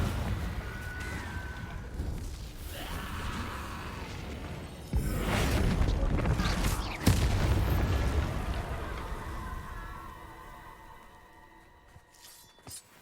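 Confringo fire spells in the Hogwarts Legacy video game erupt in rolling booms and crackling blasts, a loud sustained barrage with sharp hits around the middle that fades into a ringing tail.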